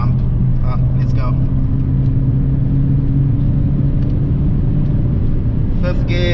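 Engine note from a 140 kW Nissan Juke 1.6T turbo pulling on a night drive, a loud, steady low drone heard from inside the cabin, with brief higher-pitched whooshes that fit a turbo blow-off between gear changes.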